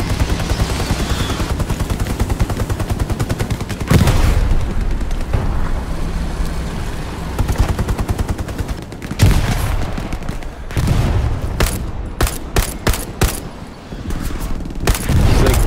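MG42 machine gun fire in a video game battle to hold a hill: long, loud, continuous automatic bursts roll on with brief gaps, then break into short rapid volleys near the end, with no talking.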